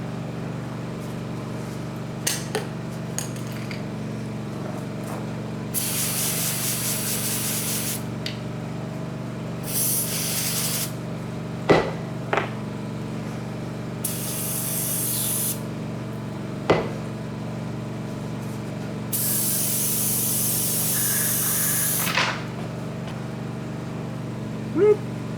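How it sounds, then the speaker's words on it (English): Brake cleaner sprayed onto cattle trailer parts in several bursts of sharp hissing spray, separated by quiet gaps with occasional metallic knocks and clicks of handling the parts over a low steady hum. "I'm just getting all this rust and crusty stuff off, and then brake clean it."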